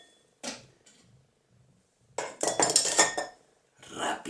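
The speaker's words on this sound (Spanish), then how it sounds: "Añadimos hielo." Ice cubes dropped into a glass for a coconut drink: a single clink, then a clattering burst of several cubes knocking together, and a final rattle, close and bright with quiet gaps between.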